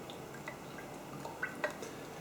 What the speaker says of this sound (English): I'm just going to put a little bit of olive oil over the top.